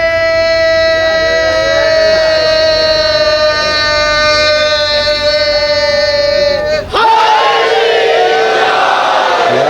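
A crowd at a Shia majlis during an azadari gathering in Kanodar, Gujarat, chants slogans in unison. Loud voices hold one long sustained call, break off briefly, then surge into another shout.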